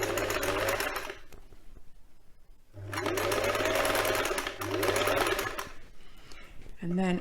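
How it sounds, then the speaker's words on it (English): A sewing machine stitches a quilt cover in three bursts of fast, even whirring, close up and fairly loud, separated by short pauses. Someone talks quietly under the stitching. "I'm sewing on the line and making sure that it's all nice and flat as I'm sewing."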